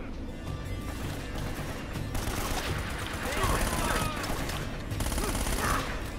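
Sustained Uzi gunfire in the video game Uncharted: Drake's Fortune, a dense, steady rattle of rapid shots with crashing impacts that holds throughout over the game's background sound.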